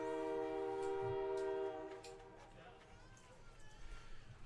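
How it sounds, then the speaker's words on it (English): A train rolls into Yorkton beside a baseball game, its horn sounding a loud sustained chord that fades, followed by rumbling rail noise while a commentator talks over it. "Train's rolling into Yorkton."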